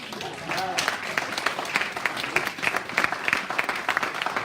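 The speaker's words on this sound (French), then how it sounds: "Si vous applaudissez, allez-y franchement." A crowd at a church service claps steadily and fairly loudly, with voices mixed in underneath the rapid patter of hands.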